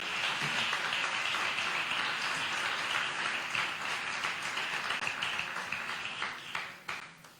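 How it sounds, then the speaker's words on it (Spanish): A church congregation applauding loudly during a sermon, a dense sustained wash of many hands clapping that thins and tapers off toward the end. "darle un aplauso fuerte a Dios por eso"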